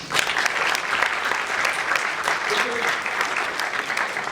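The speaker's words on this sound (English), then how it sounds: "And give yourself an applause for that." A conference audience of undergraduate students applauds during a keynote speech, a dense, even burst of clapping from a large room that holds steady for several seconds.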